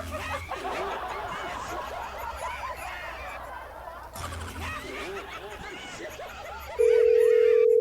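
A telephone dial tone comes in near the end as a call is placed again, a steady loud continuous tone that follows people talking and laughing.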